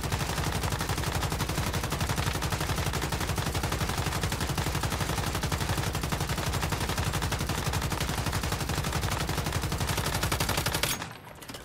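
Legendary weapon in the Once Human video game emptying a full magazine in one sustained, rapid automatic burst, loud and steady for about eleven seconds before cutting off abruptly.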